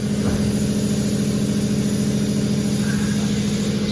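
A Mazda diesel engine with timing chain and camshaft failure turns over in a continuous, steady low drone with a fast rhythmic throb, close and even throughout, with no voices.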